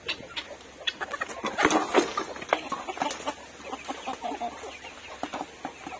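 Native free-range chickens cluck and squawk in a busy, overlapping chorus at close range in a morning farmyard coop, with irregular bursts rising and falling and no talking.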